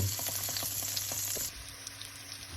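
Margarine and oil heat over high flame in a frying pan, a steady close hiss with soft crackles that drops slightly halfway through and continues more quietly.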